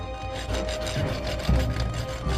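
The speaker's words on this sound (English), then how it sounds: "then sharpens it using a file" A metal file rasps against an iron chisel point freshly drawn out on an anvil in a castle forge, giving a steady series of close, rough scraping strokes with a heavier stroke midway through.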